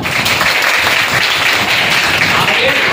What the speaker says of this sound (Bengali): সবাই একটু ওকে হাততালি দাও